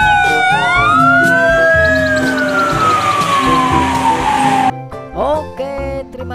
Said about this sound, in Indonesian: yang ini namanya mobil pemadam kebakaran teman-teman